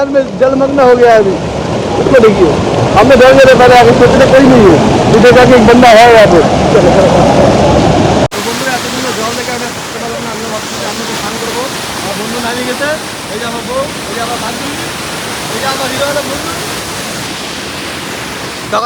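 Flowing water at a waterfall and river near Siliguri where people are about to wade in, a steady broad rush that runs throughout, loud at first under lively talk and then steadier and slightly quieter.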